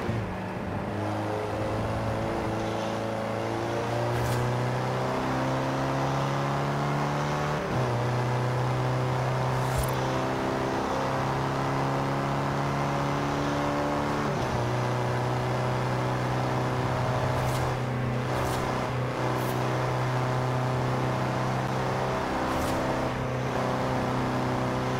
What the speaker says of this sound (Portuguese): é muito divertido o Fusca de jogar